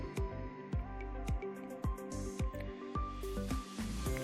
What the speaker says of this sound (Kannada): ಇದನ್ನು ನೀಟಾಗಿ ಮಿಕ್ಸ್ ಮಾಡಿ ಇದನ್ನು ನಾವು ಫಿಶ್ ಮೇಲೆ ಹಾಕಿಬಿಟ್ಟು ಸ್ವಲ್ಪ ಹೊತ್ತು ಮ್ಯಾರಿನೇಟ್ ಹಾಕಿ ಬಿಡೋಣ